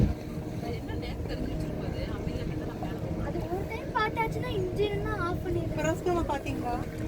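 A boat engine drones steadily close by, with people talking over it and high-pitched bird-like calls breaking through.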